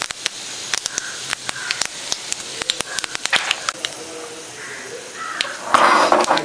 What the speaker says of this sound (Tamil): கால் ஸ்பூன் கடுகு, கால் ஸ்பூன் உளுத்த மருந்து எல்லாம் போட்டு கடுகு வெடித்த உடனே சட்னி